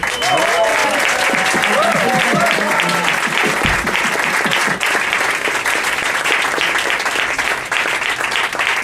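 Loud, sustained applause from a concert crowd for a conservatory big band, dense clapping throughout with a few voices and whoops rising briefly above it.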